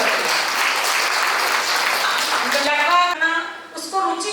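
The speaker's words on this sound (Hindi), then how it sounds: "जोरदार ताली उनके लिए जरूर बनेगी" Applause for the organizers at a book launch, a dense burst of many hands clapping loudly in a hall that fades after about three seconds as a voice begins speaking.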